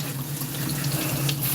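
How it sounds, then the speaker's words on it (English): Fresh thyme being washed under a running kitchen tap, a steady close splash of water into a sink throughout the short moment. "Wash this thyme."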